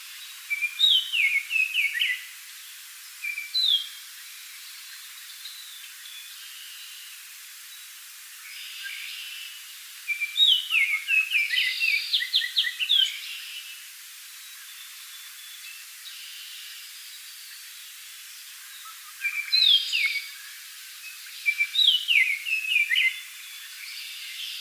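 Orioles trading songs back and forth, bursts of bright whistled phrases in separate clusters that sometimes overlap, with quiet gaps between them and a faint steady hiss underneath.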